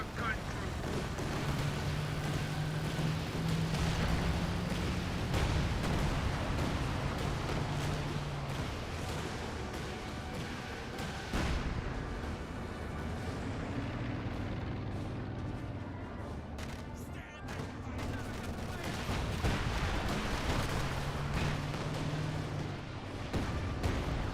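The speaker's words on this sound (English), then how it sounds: "Artillery barrage over there" Artillery barrage in Company of Heroes 2, with dense rumbling booms and gunfire rolling continuously as a loud battle backdrop, the barrage easing briefly near the middle before building again.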